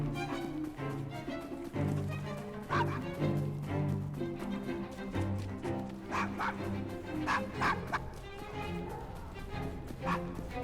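Dog barking in the Assassin's Creed Syndicate video game, a few short yips and barks rising over busy game music and ambience, with a voice speaking nearby.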